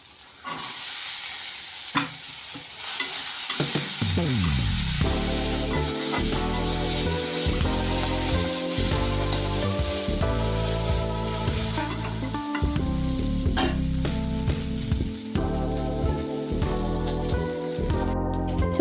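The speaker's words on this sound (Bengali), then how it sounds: "আর এই যে একটা শুকনো লঙ্কা আর এই যে পেঁয়াজ দিয়ে এখন ওইটাকে একটু নাড়াচাড়া করে নেব।" Boiled chickpeas and potato stirred in a frying pan with onion and dried chili, a steady loud sizzle with scraping and clinking of a spoon against the pan throughout, close by.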